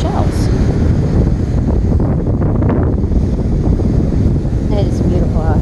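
Strong, constant wind buffets the microphone on a rough ocean front, with a low roaring rumble and possible surf underneath, and a few faint high bird calls.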